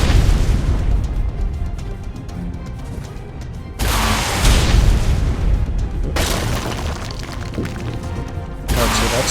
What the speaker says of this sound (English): I started shooting my rockets.